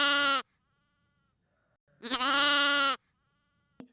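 A lamb bleats loudly twice, close up. A short cry is followed by a longer, wavering one after a silent pause, with nothing else around them.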